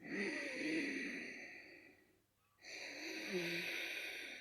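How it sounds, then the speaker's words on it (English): A slow oceanic breath drawn through the nose with a contracted throat, a soft hissing rasp that rises and falls, pauses briefly, then continues close and quiet. "have you heard about the oceanic breath?"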